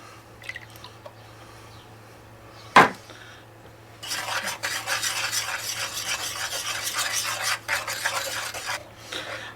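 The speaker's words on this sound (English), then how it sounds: "now we're going to stir in those 3 lightly beaten eggs" A small whisk stirring lightly beaten eggs into a homemade banana pudding mixture in a bowl, starting with a single sharp clink, then a steady, rapid scraping and swishing for several seconds.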